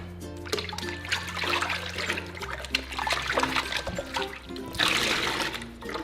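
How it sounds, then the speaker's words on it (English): Running water rinses through hair extensions in a salon, a steady trickling and splashing stream with fluctuating spatter, close and fairly loud, with no talking. "Now we're going to give it a rinse."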